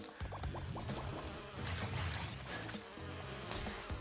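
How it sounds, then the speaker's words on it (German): Bees buzz steadily in the Crash Bandicoot 2 video game, a continuous droning hum layered with game music and effects, fairly loud throughout with no talking. "Das ist richtig anstrengend mit den Bienen."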